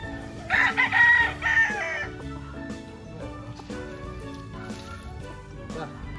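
A rooster crows loudly close by, its call rising and falling, followed by softer clucking from chickens amid steady farmyard noise.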